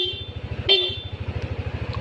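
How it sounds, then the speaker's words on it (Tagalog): Stock horn on a Yamaha NMAX scooter, a short tap standing out over the engine's rapid rhythmic idle putter, close by. "Stock horn."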